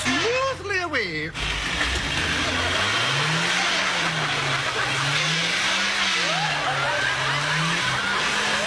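A car engine turns over and pulls away smoothly from a standstill, its low hum rising and falling steadily under a voice in a comedy sketch about a driving lesson, with people talking over the start.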